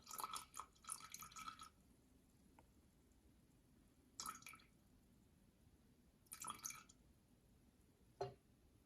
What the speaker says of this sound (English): I'm gonna just put 50 gram of water.